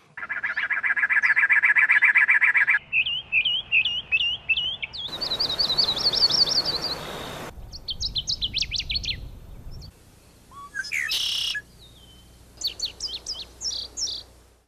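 Several different birds chirp, trill and sing one after another, with bright warbling phrases, rapid repeated notes and a burst of noisy calling, fairly close and loud with no voices.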